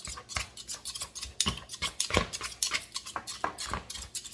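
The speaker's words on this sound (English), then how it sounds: "this is a knife and fork and you just cut right through" A knife and fork scrape and clink against a plate while slicing through tender pressure-cooked pork sirloin, giving quick repeated close-up cuts and taps in an irregular rhythm with no talking.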